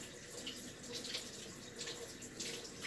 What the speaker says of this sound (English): Let me just rinse my hands off real quick